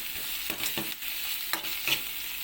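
Ingredients for chicken curry, including bay leaves, cloves and curry leaves, sauté in a pan with a steady sizzle and several quick scraping strokes of a spatula stirring them close by.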